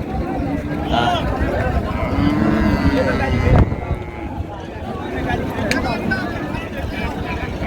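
A cow moos in a long, low call at a crowded cattle market in Raniganj, Dinajpur, amid noisy talking voices and wind, with livestock sounds in the background.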